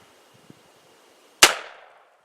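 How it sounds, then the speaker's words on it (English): A single sharp gunshot cracks at a ranch range and rings briefly off a struck metal can, loud and close, after a faint click and a quiet lead-in. "Boom! You hit a can."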